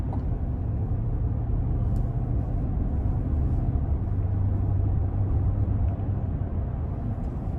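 Steady interior road noise from a 2022 Cadillac Escalade ESV Sport Platinum with a 6.2 V8 driving along, a constant low rumble and tire hum with no talk.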